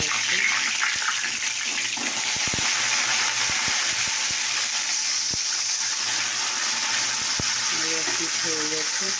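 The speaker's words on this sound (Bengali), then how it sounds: "দেখতে পাচ্ছি মাছটা ভাজা হয়েছে" Fish frying in oil gives a steady, loud sizzle throughout, with scattered sharp taps and clinks nearby and a person talking over it.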